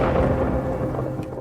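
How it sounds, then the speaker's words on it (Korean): A horror game plays a thunder-strike effect, a low rolling rumble of thunder with a rain-like hiss behind it, loud and unbroken for its short length. "아니면 막 번개가 땅 치는 소리가 나거나"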